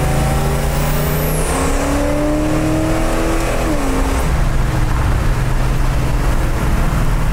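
A 1970 Plymouth Sport Satellite muscle car accelerates hard in second gear, its engine note climbing steadily before a shift, loud and close from inside the car.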